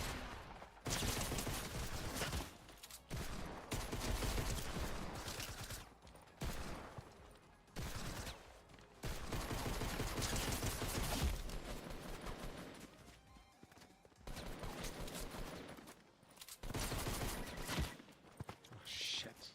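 Rapid bursts of video game gunfire crackle in dense volleys across the stretch, broken by brief gaps, with continuous loud combat noise and some talk mixed in.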